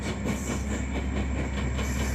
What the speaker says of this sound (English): it's literally every single train that went by Griffith for the entire 24 hours